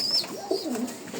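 A pigeon gives a single soft, rolling coo, close by and fairly quiet, lasting about a second.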